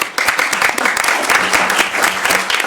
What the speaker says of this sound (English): thank you to all the panelists. Round of applause